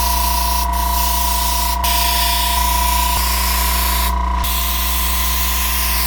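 A continuous loud hiss of an airbrush spraying paint onto a tank during vehicle bodywork, steady throughout with a few brief dips, alongside a constant low mechanical drone.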